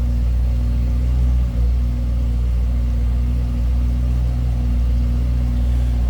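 A 2013 BMW M3 Lime Rock Edition with its 4-liter V8 runs at a steady idle, a deep, close, continuous rumble with a slight dip midway and no talk.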